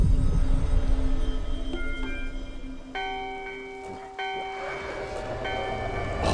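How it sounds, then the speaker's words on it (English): A bell rings in the video game Kingdom Two Crowns, its bright harmonic tones struck a few times and left to hang over a steady game ambience and music bed. "Now we can ring the bell"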